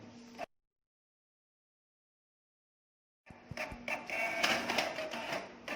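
A printer runs wedding invitations, starting after a brief bit of whirring and a few seconds of silence, then settling into a loud, continuous mechanical churning and shuffling close by.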